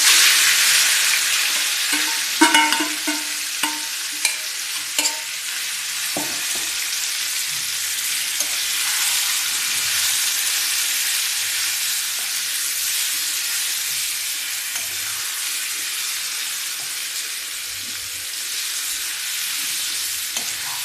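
Marinated chicken frying in a pan makes a steady, loud hiss and sizzle, with a few clinks of stirring near the start before the sizzle settles into an even crackle.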